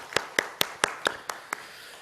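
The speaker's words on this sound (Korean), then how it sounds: "우리 박수로 한번 우리의 마음 표현하겠습니다" A church congregation at a Sunday Thanksgiving service gives a short round of applause: about seven distinct, evenly spaced claps, fairly faint and sparse, fading out after a second and a half.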